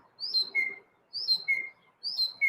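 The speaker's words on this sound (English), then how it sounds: "I think there's more than one bird there." A pet bird repeats the same bright, high chirping phrase three times in a steady rhythm, each a cluster of sharp whistled notes, clear and fairly close with quiet gaps between.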